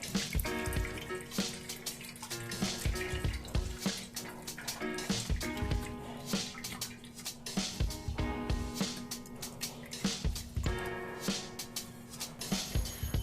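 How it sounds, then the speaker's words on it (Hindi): Water pours and splashes over chhena, fresh cottage cheese curdled with lemon, as it is rinsed in a kitchen, with steady running-tap flow and irregular drips and clatter throughout, no talking. "अब छेना को 2 बार पानी से धो लेंगे ताकि नींबू की खटास निकल जाए।"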